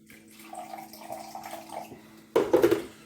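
A brief splash of water poured into vinegar for pulled pork near the end, a short gurgling rush after a quiet moment with faint room hum.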